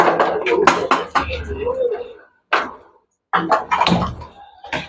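A lid is set down on a puttu steamer pot while cooking Jaffna-style puttu, giving a couple of short metallic clatters between stretches of talk in a home kitchen.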